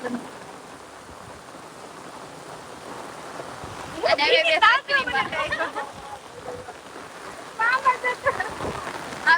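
A steady wash of rainfall hisses in the background while people talk over it at intervals.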